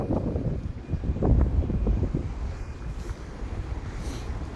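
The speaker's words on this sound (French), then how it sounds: "C'est pour ça qu'il y a énormément de vent" Strong wind buffets a phone microphone at the harbour of Canet-en-Roussillon, producing heavy low rumbling gusts that are loudest early on and then ease into a steadier roar, with no talking.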